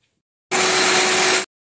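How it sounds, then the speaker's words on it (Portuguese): An electric stand mixer starts up and runs for about a second, giving a loud, steady whirring hum while beating cake batter of margarine and other ingredients, then cuts off abruptly. "Agora eu vou bater todos esses ingredientes aqui na batedeira"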